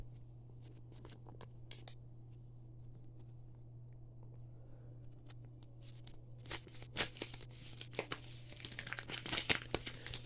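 A padded mail envelope is handled and torn open: scattered crinkles and rustles at first, then louder bursts of crumpling and ripping close by, over a steady low hum.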